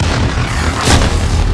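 Grenade blast in a Call of Duty multiplayer hardpoint match, a single loud boom that swells near the middle of the clip over dense, noisy battlefield background.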